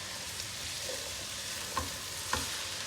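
Mushrooms cook in a pot for cream of mushroom soup, giving a soft continuous sizzle with a couple of faint spoon taps and stirring scrapes.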